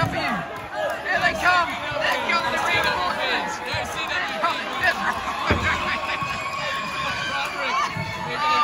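A crowd at a ten-man tag team wrestling match roars and chatters, a dense, continuous babble of cheering voices filling the hall, with shouts rising over the din.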